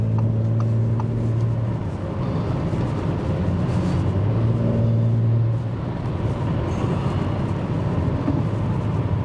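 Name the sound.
Audi S5 Coupé driving on the motorway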